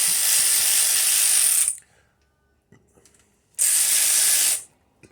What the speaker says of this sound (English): So We're gonna take the rocker arm bolts off. these are 8 millimeters.